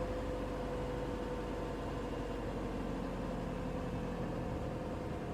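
A 2007 PT Cruiser engine idles steadily during an idle control valve check, a low, even mechanical hum with a constant faint hiss and no variation in pitch.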